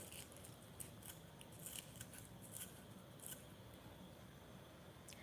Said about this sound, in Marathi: मी हा गवती चहाचा कात्रीने कापून घालते